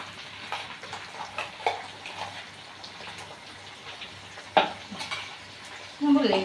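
A utensil scrapes and taps in a pan as cream is spread over three pieces of chicken, with soft stirring and faint sizzling and a few sharper clinks.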